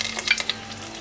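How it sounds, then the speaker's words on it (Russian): Garlic frying in hot oil in a pan, a short burst of close, crackling sizzle with quick popping spatters over a steady hiss, with no voices. "Накаливаем масло в сковородке и закидываем чеснок."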